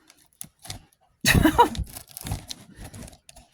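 A retractable blade slicing through thick packing tape on a shipping box, a loud close ripping, crinkling cut lasting about a second amid lighter scraping and rustling handling sounds.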